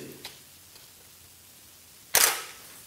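Camera shutter firing a single shot with an off-camera flash at sync speed during a soft-light portrait setup, a sharp bright click-clack burst after a quiet pause, near and alone.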